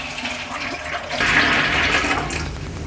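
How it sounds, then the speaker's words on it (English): Tap water pours steadily into a large canning pot holding jars of deer meat, a continuous rushing splash that swells louder partway through and keeps running alone. "I'm going to fill this canner up with water until about 3/4 of the jar is submerged in water"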